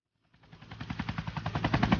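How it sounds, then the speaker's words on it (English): A rapid, evenly pulsing burst of automatic gunfire from a firefight in Afghanistan swells from silence to a steady rattle over about two seconds, with no voices. "We're getting hit from here too. Who's shooting?"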